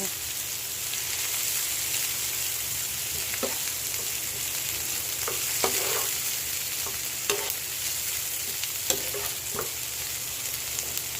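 Sautéed ingredients stirred in a frying pan for a budget Filipino dish, with a steady sizzle and a few scraping utensil strokes.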